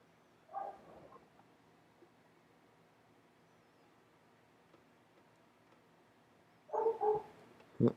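A dog gives two brief playful barks, one early and a louder double bark near the end, separated by several seconds of near silence.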